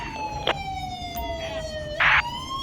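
Ambulance siren in the GTA 5 LSPDFR police mod, called to Davis: a steady wailing tone with rising and falling harmonics sounding close and loud, with brief bursts of other game noise and speech-like sounds mixed in.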